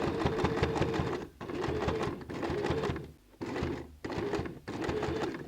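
Sewing machine stitching a shopping bag made from recycled denim jeans, running in several steady bursts with brief pauses between runs, close and fairly loud.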